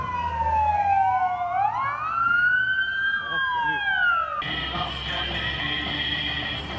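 Fire engine siren wailing during a fire drill at a building, a loud rising and falling electronic wail sweeping up and down, then switching to a harsher, denser yelp tone midway, with traffic rumble underneath.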